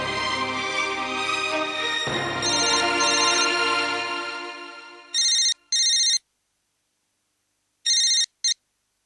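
Telephone ringtone sounding in two short electronic bursts, then another pair after a pause, loud and close, following a fading musical tone.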